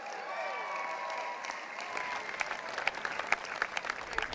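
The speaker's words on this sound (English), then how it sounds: "Come on, give yourself a round of applause." Graduating students at a university commencement applaud in a dense, steady round of clapping, with a few sharper individual claps standing out toward the end.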